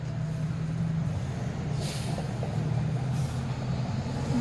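A truck moving in road traffic with a steady low engine rumble that stays near and continuous, plus a brief air-brake hiss in the middle.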